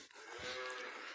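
A cow moos once in a drawn-out, fairly faint low call on a farm at night, alone with no talk.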